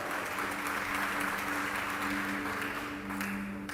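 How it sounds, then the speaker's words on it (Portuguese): A church congregation applauds during an evening service: a sustained, even roar of many hands clapping, heard from a distance, over a steady low musical drone that continues beneath it. "Você pode aplaudir a Ele nessa noite?"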